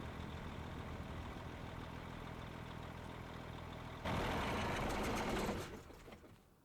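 A grain truck engine runs steadily in Farming Simulator 25 during a barley harvest, a constant droning hum that swells louder for a moment before fading down.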